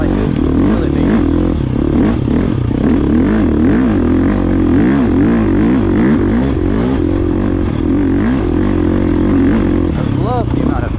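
A 2024 GasGas EX 350F dirt bike engine thrums loud and close while being ridden, lugging low with repeated throttle swells and revs over the full stretch, with wind and riding clatter mixed in.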